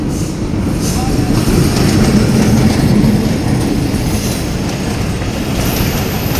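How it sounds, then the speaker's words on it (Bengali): A passenger train, one that runs toward Naogaon, rolls past a level crossing close by, giving a loud, steady rumble with wheel clatter and a faint squeal that holds for the whole stretch. "সুন্দর করে ট্রেন যাচ্ছে।"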